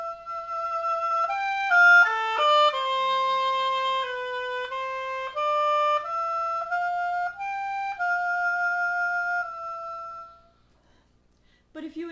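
An electronic oboe plays one of the Barrett progressive melodies as a clean, reedy solo line of sustained notes stepping up and down in a flowing phrase, clear and close before trailing off into near silence.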